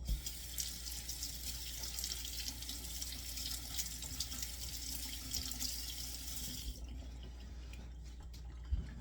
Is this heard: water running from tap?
yes